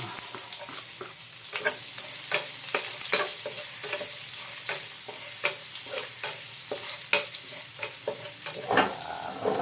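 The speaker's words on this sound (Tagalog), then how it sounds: "dito na rin po tayo maggisa ng sibuyas, bawang, kamatis" Onion, garlic and tomato sauté in oil for tausi milkfish with bitter melon, a close steady sizzle with frequent sharp scrapes and taps of a spatula against the pan.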